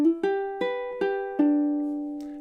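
Ukulele playing the measure 27 riff of Jimmy Buffett's "Margaritaville" with a hammer-on, five quick plucked notes in a short run, the last left ringing and fading, close and alone.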